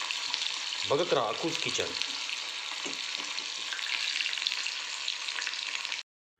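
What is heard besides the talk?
drumsticks deep frying in hot oil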